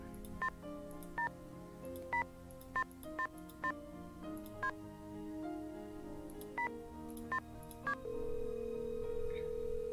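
A phone dialed in a Nancy Drew video game: about a dozen short, evenly spaced keypad tones over a quiet background hum, followed by a steady ringing tone, with no voice.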